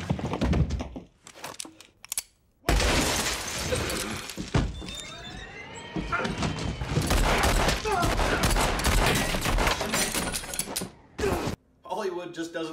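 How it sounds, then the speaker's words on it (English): Rapid volleys of gunfire from a movie shootout crackle loud and dense for most of the span, with a short quiet gap near the start and another near the end. "for the number of shots that you're about to see fired"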